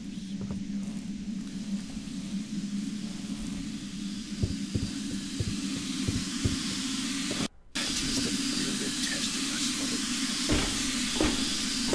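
Steam hisses from a steam release mechanism in the video game Thief: Deadly Shadows, a steady, fairly loud broadband rush with soft thuds and clicks beneath it and one brief dropout, without speech.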